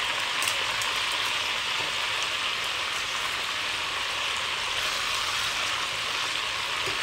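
Steady dense crackle and hiss of pork (bagnet) frying in oil, continuous and fairly close, with no pauses or talking.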